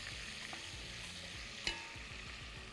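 Garlic frying in ghee, a soft continuous sizzle with light stirring and one brief sharper clink midway, fairly quiet and without talk.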